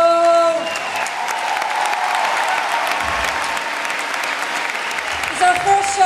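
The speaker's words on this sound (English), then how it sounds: "A round of applause." Concert audience applauds at L'Olympia in Paris during a show, a dense, steady roar of clapping with some cheering, loud and sustained throughout, with a brief musical tone near the start.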